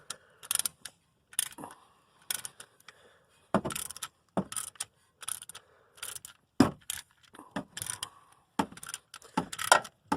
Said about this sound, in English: Get my ratchet, and then I'm going to start tightening it up.